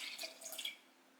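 Water pours briefly into a glass jar, a faint, close trickle with a few light splashes that fade within about a second.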